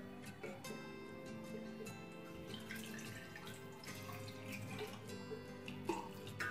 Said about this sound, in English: then put water in.